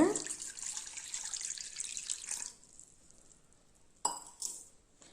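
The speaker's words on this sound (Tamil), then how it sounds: "இந்த தண்ணியை இதில் ஊற்றிடலாங்க." Water poured from a tumbler into wheat flour for halwa splashes steadily for a couple of seconds, then stops, followed by a brief clink and a last short pour, quiet and close with no talking.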